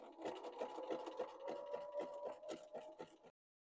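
A serger sewing machine stitching the seam of a fabric stuffed bunny, a quick even rhythmic whirring and clatter close up that runs for about three seconds and then stops abruptly.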